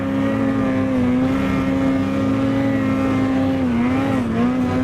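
Ski-Doo Summit 850 E-TEC Turbo snowmobile accelerating uphill, a loud steady two-stroke engine whine held at high revs with a brief dip and recovery, close and without talk.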